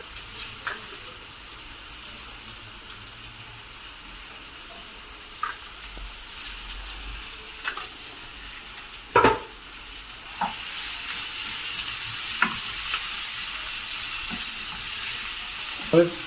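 Onions frying in a pan while a Kathiyawadi eggplant dish is cooked, giving a steady close sizzle with scattered clicks and scrapes of stirring and one louder knock partway through.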